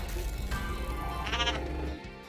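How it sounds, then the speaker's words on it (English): A space goat in the Team Sonic Racing kart game lets out a wavering bleat, clear and fairly loud against a steady background of game music and engine noise. "I got a space goat."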